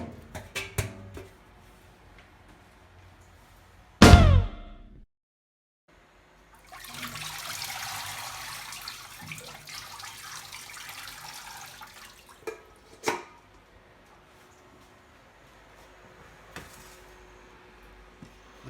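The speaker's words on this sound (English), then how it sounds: "In a big sink of cold water." Wild garlic leaves are washed in a big sink of cold water: a clunk, then a few seconds of running, splashing water and scattered knocks and drips, fairly close.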